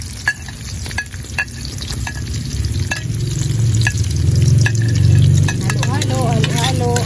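Garlic sizzling in a frying pan while being stirred for Filipino ginataang laing with snails, a rising crackling hiss with scraping spoon strokes, close and loud, with a voice speaking briefly over it.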